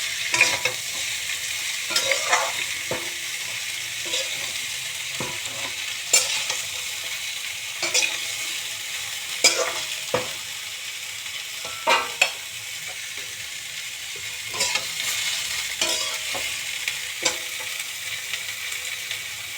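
Potatoes and cauliflower fry in a pan with a constant soft sizzle, while a spoon scrapes and stirs at irregular moments, each stroke a brief clatter against the pan.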